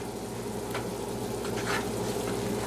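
Pieces of butter melting into a chicken piccata pan sauce sizzle and fry steadily up close, with a few soft stirring strokes through the bubbling liquid.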